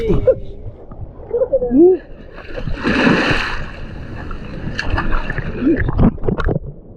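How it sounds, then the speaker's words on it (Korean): Strong sea waves splashing and sloshing close by during a snorkeling outing, bursts of churning water under and between people talking. "파도가 너무 세져가지고 이제는 안되겠어요"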